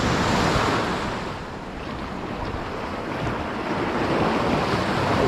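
Ocean surf breaking near the edge of a reef at a shore jigging spot: a loud, continuous roar of rolling waves that swells and eases, with wind buffeting the microphone.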